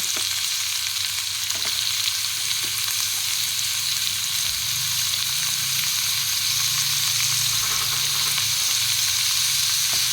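Paneer pieces fry in a pan with chopped tomato and salt for kadai paneer, giving off a loud, continuous sizzle with occasional stirring scrapes and no talking.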